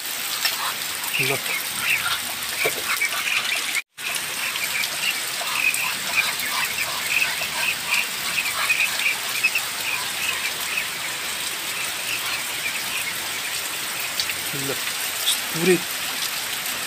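Heavy rain pours steadily over a flooded rural Nepali village, a dense hiss of drops on surfaces with frogs croaking in the background. A voice speaks a couple of words briefly early on.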